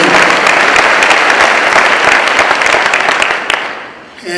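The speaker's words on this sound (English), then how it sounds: "let's give all our veterans a round of applause for all that you" An audience applauds veterans at a county State of the County address, with dense, steady clapping filling the room for about three and a half seconds before it thins and fades out.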